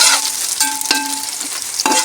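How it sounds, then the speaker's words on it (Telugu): Onions and chillies fry in a pan and are starting to burn, giving a loud, steady, close sizzle broken by a few sharp stirring scrapes. "మన ఆనియన్స్ మాడిపోతున్నాయి, ఓకేనా."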